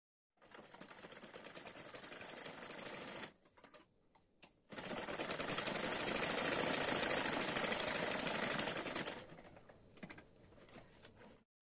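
A sewing machine stitches the side seam of a lehenga blouse top, running in two bursts of steady, rapid mechanical chatter, a short one and then a longer, louder run, with brief silent pauses between and after.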